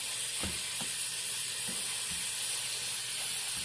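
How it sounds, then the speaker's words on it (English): Water runs from a kitchen tap into a container while tamales in red sauce are being prepared, a steady bright hiss throughout with a few soft knocks and clunks underneath. "Then I'll put a little bit more from the tap."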